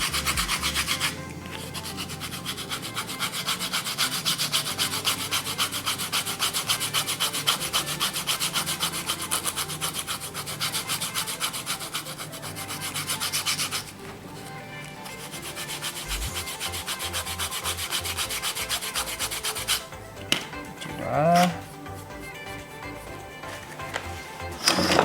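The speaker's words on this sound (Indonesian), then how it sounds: "Ini kita cukup amplas sedikit saja." Hand sanding along a leather edge with abrasive paper, a continuous scratchy rubbing in long steady strokes, close and even, with a brief pause midway and a few small knocks near the end.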